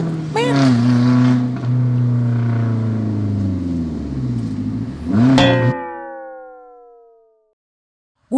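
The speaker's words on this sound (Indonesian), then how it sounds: "Itu ada mobil yang lewat lagi, men." A car passes close by, its engine swelling loudly then dropping in pitch as it drives away and fades into silence.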